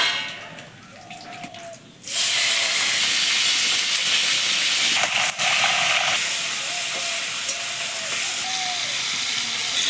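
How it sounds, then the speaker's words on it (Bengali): Prawns hit hot mustard and refined oil, and after a quieter start a loud, steady sizzling hiss bursts in and holds to the end. "চিংড়ি মাছগুলো ভেজে নেবো এর মধ্যে"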